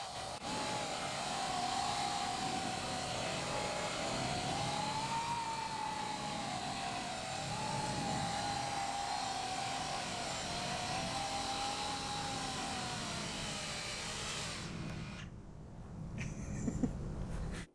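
A drone driven by Coanda-effect propulsion flies at half throttle, giving a steady, fairly quiet whirring hum with a slowly wavering pitch that runs almost the whole time and drops away near the end.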